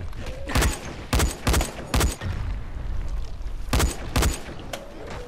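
Rifle fire in the video game Dying Light comes in sharp, loud bursts of several shots each, separated by short pauses, close and punchy over faint background ambience.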